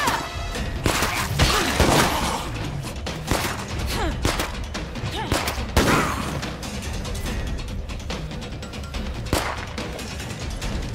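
Gunfire in State of Decay 2 rattles along steadily as dense, repeated sharp cracks and mechanical clatter, moderately loud and continuous across the whole stretch.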